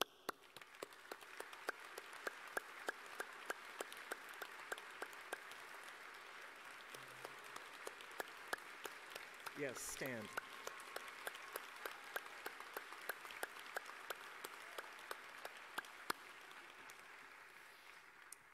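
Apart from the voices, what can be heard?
convocation audience applause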